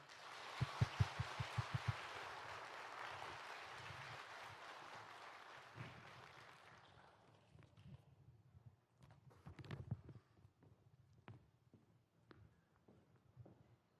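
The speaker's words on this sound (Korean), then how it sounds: "하나님 옆에 영광의 박수 올려드리겠습니다." Church congregation applauding at a praise service, a broad burst of clapping that fades out over the first seven seconds, leaving sparse scattered claps and quiet room noise.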